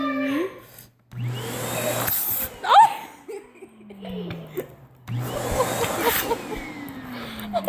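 A household vacuum cleaner running in a home, its loud roaring whine rising and falling in two long bursts with a short pause between, as someone talks and laughs over it.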